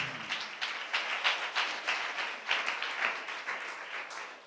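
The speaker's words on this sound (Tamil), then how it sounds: "நல்ல கைத்தட்டி ஆண்டவருக்கு நாம் நன்றி சொல்லலாமா? 2 கை தட்டி கூட." A church congregation at a Tamil Christian service claps hands together in a steady, rhythmic beat, many palms striking at once, moderately loud and continuous with no talk over it.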